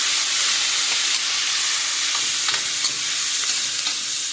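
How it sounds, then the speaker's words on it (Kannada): Onion and tomato frying together in a pan, a dense continuous sizzle with faint stirring ticks, close and loud with no talk. "ಈರುಳ್ಳಿ ಟೊಮೆಟೊ ಒಟ್ಟಿಗೆ ಹಾಕ್ತೀನಿ."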